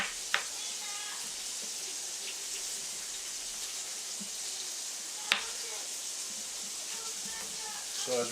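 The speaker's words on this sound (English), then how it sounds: "let's go over and check on our lamb chops that are on the grill" Lamb chops sizzle on a grill with a steady, bright hiss of fat and heat, broken by a couple of sharp pops or clicks, with nobody talking.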